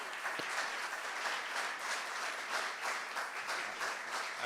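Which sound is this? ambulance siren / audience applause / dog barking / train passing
audience applause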